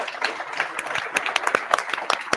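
Scattered applause from a meetup audience for the co-organizers at a PyMunich evening, a few sharp separate claps building into a light, uneven patter.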